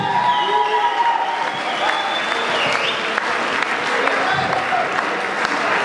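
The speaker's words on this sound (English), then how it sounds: "give a big round of applause for Kyle MacKay and Jay Davidson" A crowd at a boxing event applauds the two fighters, Kyle MacKay and Jay Davidson, with loud, continuous clapping and a little cheering lasting several seconds.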